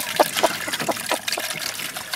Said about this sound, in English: Rinse it one more time.